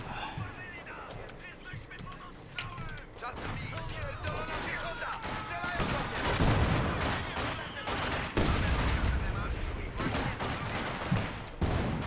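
Bursts of rifle and machine-gun fire crackle repeatedly in a Company of Heroes 2 battle, dense volleys and single shots mixed with game effects, while a player talks throughout.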